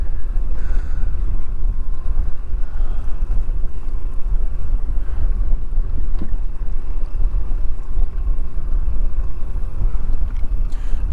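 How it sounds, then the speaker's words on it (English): Strong wind buffets a boat out on Lake Erie, a loud steady low roar of gusts across the microphone over the hull and water, unbroken for the whole stretch with no voices. "The wind definitely kicked up a little bit,"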